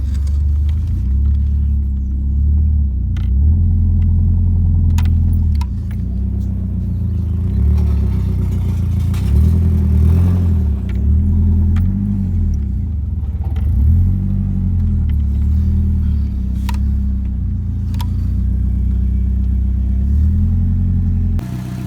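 A 1992 Nissan 240SX with a turbocharged SR20DET engine drives and revs hard, close and loud, its deep engine rumble rising and falling through repeated acceleration pulls.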